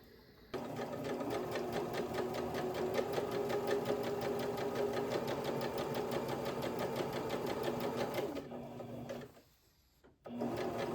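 A sewing machine stitches a skirt, running steadily at close range with a rapid, even mechanical rhythm for about eight seconds before stopping briefly and starting again.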